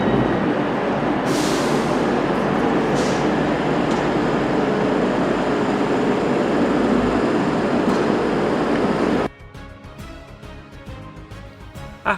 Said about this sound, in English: we are now arriving at Manchester Piccadilly